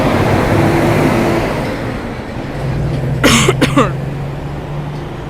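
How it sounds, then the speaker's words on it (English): A truck passes on a noisy street in town, a loud, rumbling broadband roar that swells and fades, with a few brief sharp hisses near the middle. "Oh, the truck noise, sorry about that. It's so noisy."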